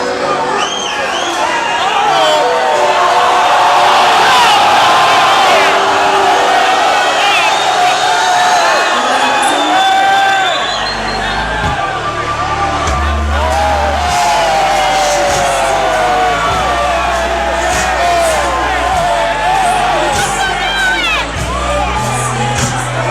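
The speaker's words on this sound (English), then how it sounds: "Crowd was incredible." A concert crowd cheers loudly throughout, a dense wash of screams, whoops and shouts, with low thumping music or bass joining in the second half.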